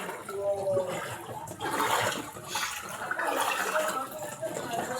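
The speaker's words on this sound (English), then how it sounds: "See as water enter now." Floodwater rushes steadily into a house during a flood in Lagos, a continuous close, broadband wash of flowing water with voices faintly audible underneath.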